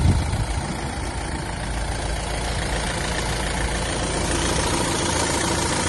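A Renault Grand Scenic engine idles loudly and steadily nearby, a constant low rumble with a dense mechanical hum and no other sounds.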